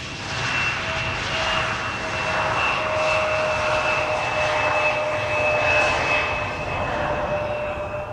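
A jet airliner rolling out after landing at Amsterdam Schiphol Airport, its engines giving a steady loud roar with a high whine on top, heard from outside at a moderate distance.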